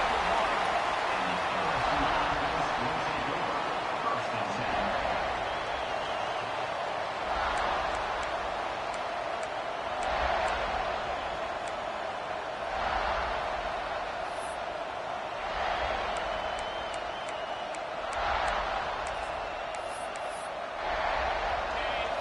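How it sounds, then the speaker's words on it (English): Steady roar of a large college football stadium crowd at South Carolina versus LSU filling the air, with surging swells of noise rising every few seconds; no clear talking stands out. "Wow, listen to this crowd noise. This stadium is vibrating."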